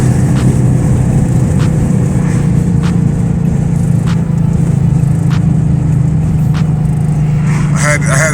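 A 2020 Chevy Camaro 2SS engine pulls hard after a downshift, a loud steady drone that holds throughout before a voice cuts in at the very end.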